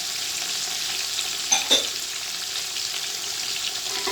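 Tomatoes fry in oil for chicken yakhni pulao, a steady close sizzle with a couple of sharp spatters or utensil knocks midway, no voices.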